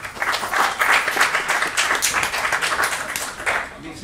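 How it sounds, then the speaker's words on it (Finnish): Applause for Rane at a football press conference after an AC Oulu versus KTP league match, a small group clapping steadily at close range, moderately loud, fading near the end. "Annetaan saa Raneelle aplodit nyt aivan ensimmäisessä."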